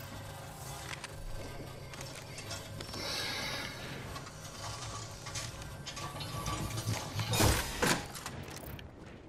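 Weapon crafting in a shooter game, fitting a turbocharger hop-up and shotgun bolt, sounds as a run of ratcheting, clicking mechanical clatter that builds to a louder whooshing clank near the end.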